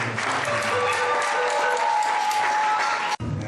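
Audience applause at a 25th anniversary celebration of priesthood: a full, continuous round of clapping from a large gathering, steady and loud, with a faint tone underneath, cut off abruptly just before the end.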